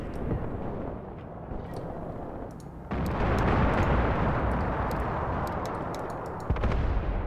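Tank gunfire in the WWII tactics game Graviteam Tactics Mius: loud booming blasts and sharp cracks over a continuous rumble of battle, with a heavier surge partway through and scattered distant pops.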